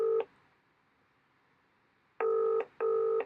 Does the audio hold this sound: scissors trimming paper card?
no